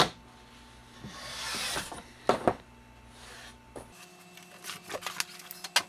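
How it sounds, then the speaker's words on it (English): A mat cutter slices a photo mat board that is lined up along a drawn line for a square edge, giving soft rasping scrapes and a few sharp knocks and clicks, close by with no talking. "I'm going to insert this mat into my mat cutter"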